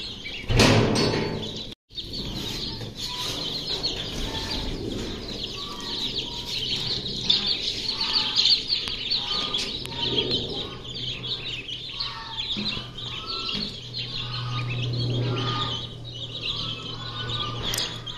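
Incubator-hatched chicks chirp continuously in a dense, high-pitched chorus of overlapping peeps, fairly close and steady, with a brief gap near the start and a low background hum underneath.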